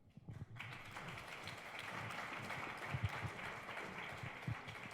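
An audience at a congressional district candidate forum breaks into applause: a faint, distant wash of many hands clapping that starts abruptly and holds steady.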